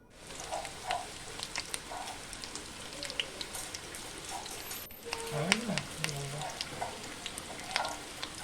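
Fish roe pakoras frying in hot oil make a soft, steady sizzle with scattered light pops and crackles, heard close and fairly quiet, with occasional faint kitchen clinks and no talk.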